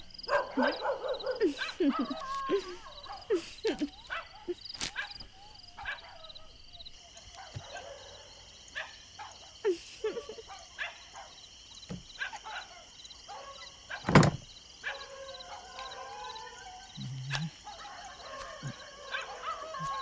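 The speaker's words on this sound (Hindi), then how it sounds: "ये कुत्ते क्यों इतना भौंक रहे हैं?" Dogs barking in scattered, irregular bursts at varying distances, some sharp and close, others fainter, mixed with yips and intermittent talk over a steady background tone.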